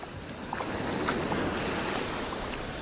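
Ocean waves at a sandy beach, a soft, steady wash of surf heard from right in the water, faint and continuous with light wind noise and no talk.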